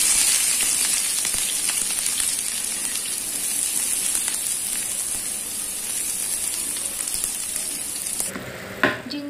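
Onion frying in hot oil with browned cumin seeds gives a steady, loud sizzle that runs almost unbroken, then drops suddenly near the end, followed by a brief stir or clatter.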